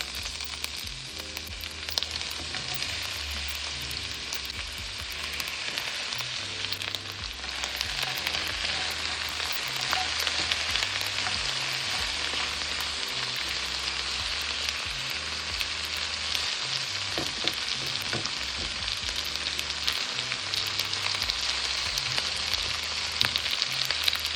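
Vegetables fry in olive oil for a shrimp stir fry, giving a loud, steady sizzle that runs unbroken throughout, with faint stirring beneath it.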